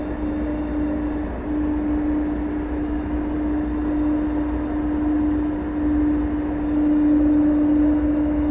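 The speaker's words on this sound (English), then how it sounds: "It is on a vector to take it over to runway 18 left for takeoff" Jet aircraft taxiing toward the runway for takeoff at DFW Airport at night, a steady, loud broadband engine roar with a sustained whine, continuous and unbroken, with no talking.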